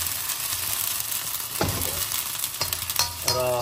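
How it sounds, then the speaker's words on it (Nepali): Onions fry in a pan for a Nepali goat intestine and stomach dish, a constant close sizzle broken by several scraping stirs of a utensil against the pan, growing louder toward the end. "अनियनलाई मजासँग भुट्छु"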